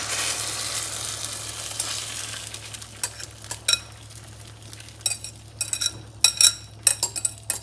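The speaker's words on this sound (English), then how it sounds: "I'm going to introduce the entire mixture to the pan at once." A Spanish omelette mixture of egg and potato sizzles in hot oil in a pan, with an initial hiss that settles, then scraping and clinking of a utensil against the pan growing more frequent.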